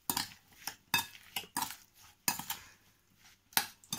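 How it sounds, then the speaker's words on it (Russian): A spoon scrapes and clinks in a bowl while sour cream and sugar are mixed into a pie filling, several quick stirring bursts with short pauses between, close and fairly quiet. "Перемешиваем."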